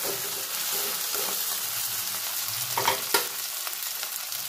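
Long potato pieces hitting hot oil with onion and ginger in a pan, giving a steady bright sizzle with a few louder scraping stirs in the middle.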